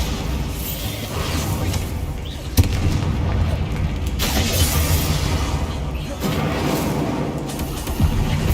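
Bombarda explosion spell cast in Hogwarts Legacy, a heavy boom near the three-second mark within a dense wash of continuous game combat noise, with smaller bursts following.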